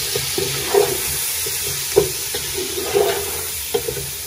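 A spoon works through chicken pulao in a pot, turning it over with garam masala, giving irregular soft scrapes and knocks against a constant hissing background.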